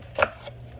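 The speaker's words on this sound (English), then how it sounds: "I am going to slice into it a few times." A knife slices down through a pepper in one crisp chopping cut on a board, a single short close thud with faint kitchen background.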